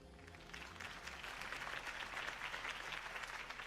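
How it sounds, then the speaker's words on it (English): A crowd in Telltale's Batman game claps and cheers continuously, a dense wash of applause that swells slightly and holds steady throughout, with no clear speech. "could have heard that applause"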